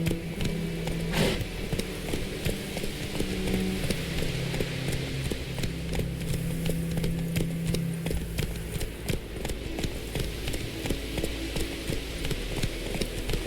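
Horse hooves clip-clop at a steady trot in The Witcher 3, running continuously under game music and ambient sound at moderate loudness.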